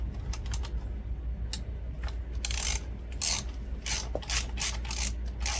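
A hand ratchet loosens the upper radiator bolt on a Kawasaki Z900 motorcycle, giving close, crisp clicking bursts in quick repeated strokes with brief pauses between them and no voices.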